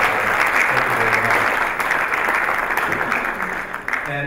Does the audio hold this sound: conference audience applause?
yes